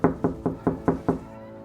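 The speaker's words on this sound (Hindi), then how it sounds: "किसी ने बाहर से दरवाजा जोर से पीटा" Someone bangs hard on a door from outside with six loud, evenly spaced blows in quick succession, heavy and close, which then stop abruptly.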